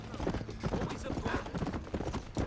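Horse hooves clip-clop in the video game Red Dead Redemption, a quick, steady run of close hoofbeats with a rhythmic gallop pattern.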